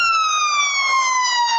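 An ambulance siren sweeps past with a Doppler shift, a loud, steady wailing tone that slides gradually lower in pitch as it moves away, heard alone without talk.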